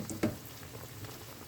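Sausages sautéing in a pan give a low, steady bubbling sizzle, close and quiet, with one brief louder pop near the start and no voices.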